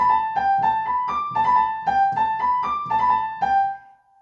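Piano mordent ornaments played quickly in a tune, bright repeated note clusters in a lilting rhythm, about a dozen quick attacks ringing clearly before the last note sustains and fades, solo with no talk.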